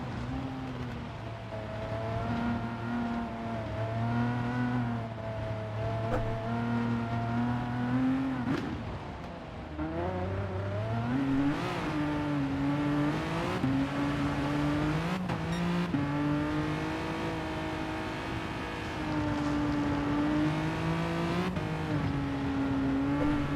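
An 80s Audi Quattro Group B race car in Gran Turismo Sport, its engine note steadily revving and climbing through gear changes, loud and continuous, with other racing engines blending in.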